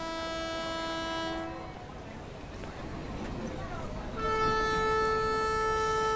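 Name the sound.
Karwar Express train departing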